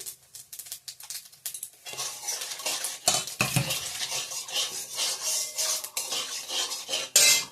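Dried red chilies and panch phoron tempering in a pan in a home Bengali kitchen, a spatula scraping and clinking against metal in irregular strokes over a light sizzle, close and fairly loud.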